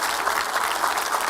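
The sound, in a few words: one person clapping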